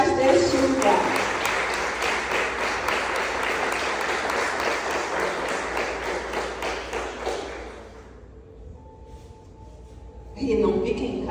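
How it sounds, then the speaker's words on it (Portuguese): A church congregation applauds the fathers present, with loud dense clapping filling most of the clip before fading out, a brief lull with a faint tone, then a short return of sound at the end. "vamos dar uma salva de palmas a todos os pais deste lugar"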